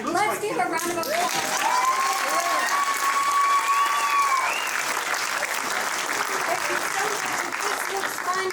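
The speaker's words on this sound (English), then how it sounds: "Let's give a round of applause." Audience applause at a talent show held on a brewery stage, a steady wash of clapping that stays loud and even throughout, with a few voices talking over it near the start.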